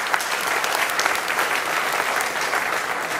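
A crowd at a rabbi's religious lecture applauds in steady, dense clapping that holds at an even level for a few seconds, with no talking over it.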